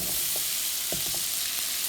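Red potatoes fry in oil in a pan over medium-high heat, giving a steady, close sizzle with a few brief clicks and pops of movement across roughly two seconds, without any voices.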